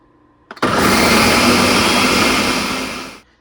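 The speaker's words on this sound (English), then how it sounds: "I am going to put this in my blender and blend it up until it's nice and smooth." A blender whirs through peach habanero jam until it is smooth, switching on abruptly into a loud, steady roar that holds for about three seconds before cutting off, with no other sound over it.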